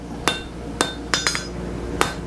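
Hammer blows forging a 9.5 mm square steel bar toward round for a door knocker, five sharp ringing strikes at uneven intervals, with the fourth followed quickly by a lighter rebound tap, close and clear.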